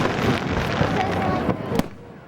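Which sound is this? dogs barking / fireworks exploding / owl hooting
fireworks exploding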